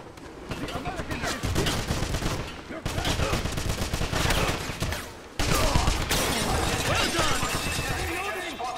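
An MP40 submachine gun fires in a Wolfenstein game, sustained rapid bursts of loud, close automatic shots with rattling and shattering debris, split by a couple of abrupt pauses, with voices heard intermittently under the gunfire.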